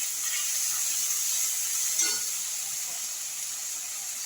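Spice paste sizzling in a pan for mochar ghonto, a steady close hiss of frying with a brief clink of a utensil partway through.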